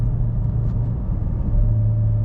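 A car engine rumbles steadily at low speed in fifth gear, the pitch lifting slightly near the end as an automatic transmission is manually downshifted, with no talk.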